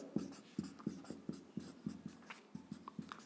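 Chalk or marker taps and short strokes on a classroom board during a lecture, a quick rhythmic series of soft clicks heard up close with no talk.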